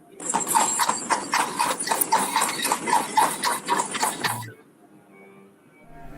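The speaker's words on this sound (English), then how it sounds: "the horse's hooves and the jostle of the carriage begin" A horse's hooves clip-clop in a steady, brisk rhythm as it pulls a carriage, loud and close with a rattling, jostling texture, then cut off abruptly near the end, leaving quiet.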